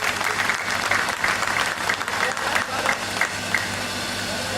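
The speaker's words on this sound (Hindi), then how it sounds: "इसलिए उनके लिए जोरदार तालियां हो जाए" Loud, continuous clapping from the audience at a book release event, dense and even with scattered sharper claps, filling the whole stretch without talk.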